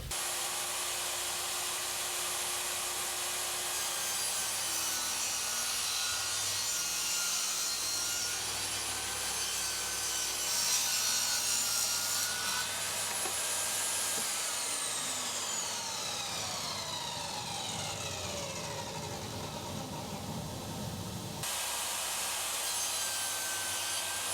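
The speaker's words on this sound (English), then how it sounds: "I have some plywood that looks like it's exactly the right size, so I'm going to cut some strips to make a box to go around this" Plywood being cut into strips in a workshop with a power saw, a continuous loud whining cut that shifts pitch as the blade moves through the wood, running steadily with no talking.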